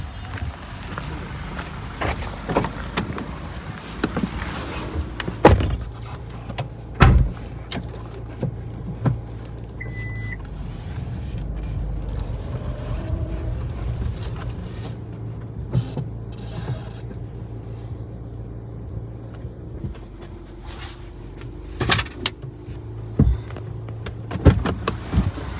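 A Suzuki Grand Vitara car gives a repeated creaking squeak while moving, with a low rumble underneath and several sharper knocks, heard close inside the vehicle without talk.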